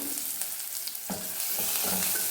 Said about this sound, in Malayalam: നമുക്കൊന്ന് കുറച്ച് സമയം വഴറ്റിയെടുക്കാം